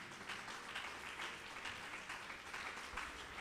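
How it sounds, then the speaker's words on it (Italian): Audience applause for a local official called up on stage during a live concert at Teatro S.V. Pallotti in Rome, a steady, dense wash of many hands clapping at moderate distance with no talk over it. "Un applauso all'assessore Carmine Farcomeni."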